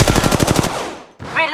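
Rapid automatic gunfire from Apex Legends Mobile, a quick burst of about ten loud close shots, trailing off into a short pause and a metallic follow-up sound.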